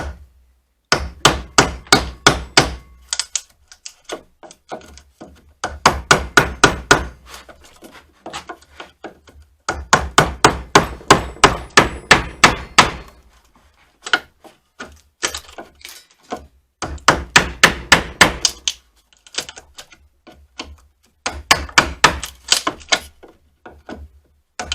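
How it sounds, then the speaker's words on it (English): Someone hammers on wood while building a Christmas cross: close, loud bursts of rapid strikes arrive in about six separate runs with short pauses between them, and no one talks. "Here's a better angle of what it looks like when I'm hammering them out."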